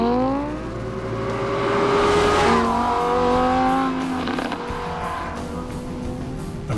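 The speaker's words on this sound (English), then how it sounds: "Finally, Lamborghini's latest creation is ready to attack the track." A Lamborghini Huracan supercar running on a racetrack, its engine note climbing through several gear changes with a squeal of tires, loud and close before easing away.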